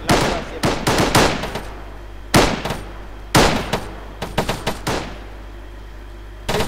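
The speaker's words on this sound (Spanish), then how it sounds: "El MG que está disparando a la puta casa, ¿quién es?" A machine gun in ArmA III hammers at a house in repeated loud bursts of several rapid shots each, separated by brief pauses, over a steady low engine-like hum.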